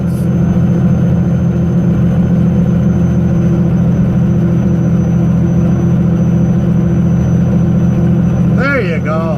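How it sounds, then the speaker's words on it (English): A 2001 Freightliner truck with a Cat C15 engine runs at a steady, loud, low drone from inside the cab, with a brief squeaking sound near the end. "it's a 2001 Freightliner. I'm not too sure what the model. It does have a C15, Cat C15 engine in it."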